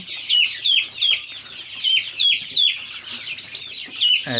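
Young colour-bred chicks about 22 days old drinking vaccine-dosed water on a hot day, giving repeated short, close clucks and peeps in an irregular rhythm, with no talk.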